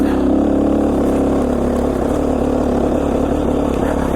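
A Beta 500 enduro motorcycle engine hums steadily and loud, a close continuous drone with a slight rise and fall in pitch, out on steep Idaho singletrack and with no voices.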